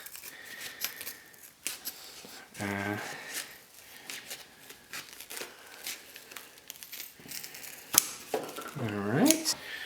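Scissors snip and crunch through material in a series of irregular cuts, with rustling and a few brief voiced sounds nearby.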